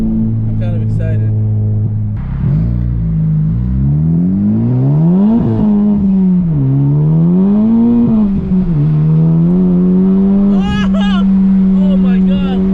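A Honda Civic Type R FK8 with a Stage 2 tune on E85, accelerating onto a freeway from inside the cabin: a loud engine climbing through rising and falling pulls across several shifts, with excited talk over it.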